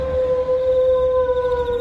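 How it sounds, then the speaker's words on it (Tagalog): A dog howling at night in a rural province, a long sustained steady wail held close and loud with a faint low rumble underneath. "Matapos marinig ang nakakatakot na alulong ng aso"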